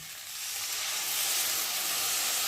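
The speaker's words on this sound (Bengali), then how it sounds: "আর এখন আমি অল্প করে জল দিয়ে ফুটিয়ে নেব" Potatoes frying in oil hiss loudly as a little water is added while cooking banana flower curry, a dense, steady sizzle close by that swells slightly and holds without pause.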